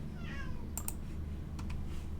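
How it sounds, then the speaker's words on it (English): A cat meows softly in a room with a steady low hum, a short rising-falling call early on, followed by a few quick keyboard-like clicks and taps. "Yeah, cat."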